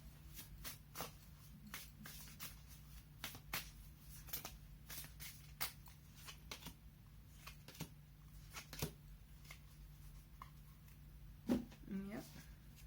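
Tarot cards are shuffled and drawn, giving soft repeated riffling and flicking clicks close by. A faint steady hum sits underneath, and a few sharper taps come near the end.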